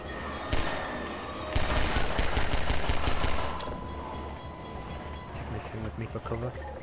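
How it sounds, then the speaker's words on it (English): A rapid burst of automatic gunfire in the video game Half-Life 2 rattles for a couple of seconds, then fades into quieter noise, with people talking over it. "gunfire."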